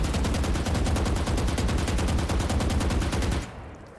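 A Vandal assault rifle fires full-auto in Valorant, a loud, rapid, even stream of shots for about three and a half seconds before stopping abruptly.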